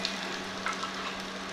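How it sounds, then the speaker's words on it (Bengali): Spices fry in a pan, including turmeric, cumin and coriander powders with chopped green chilli: a soft, steady sizzle with light stirring scrapes, brief and fairly faint. "আমি এটা একটু ভালো করে ফ্রাই করে নিচ্ছি।"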